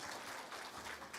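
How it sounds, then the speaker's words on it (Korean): A church congregation applauding during a Sunday service, a dense patter of many hands clapping at a moderate distance, fairly soft and even throughout. "마지막 뜨거운 박수"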